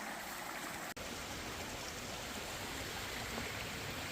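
Creek water flowing steadily along an Appalachian Trail section near a log footbridge, a continuous broad rushing wash close by with no letup.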